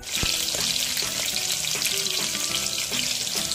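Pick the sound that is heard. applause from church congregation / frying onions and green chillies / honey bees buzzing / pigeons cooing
frying onions and green chillies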